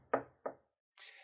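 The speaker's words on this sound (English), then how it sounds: "Suddenly, there was a knock at the door." Two firm knocks on a hard surface like a door sound close and distinct, followed by a short hissing noise.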